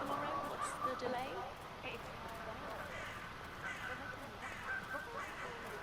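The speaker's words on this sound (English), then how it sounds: "I'll never get rid of those stupid birds." Birds honking and cawing in the Hitman 3 video game, repeated goose-like calls at moderate distance over a steady ambient background, with people talking at the same time.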